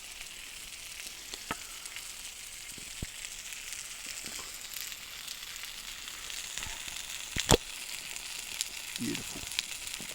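Sausages and patties sizzle over an open campfire at night during a hunting trip in the Kaimanawa Ranges, a steady soft frying hiss with occasional crackles and pops, while a voice briefly speaks.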